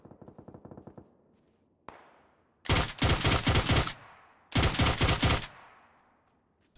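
Mutant rifle fire in PUBG on console: a faint rhythmic burst, then a single crack and two loud, close bursts of rapid automatic gunfire, each about a second long with a short gap between.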